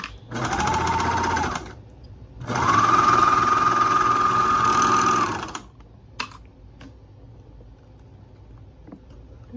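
Electric sewing machine stitching fabric for a sock: two steady, close whirring runs, one short and one about three seconds long, then a clunk and a quiet pause.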